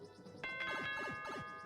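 A ding-dong chime from the video game Super Mario Maker, a bright multi-note tonal jingle ringing clearly for over a second over faint background, with no talk.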